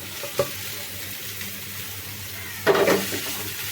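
Cooked beef goes into a pan of boiling sauce for a sizzling beef dish, a low steady bubbling and sizzle with a soft knock early on and a louder burst of hissing near the end as the meat hits the liquid.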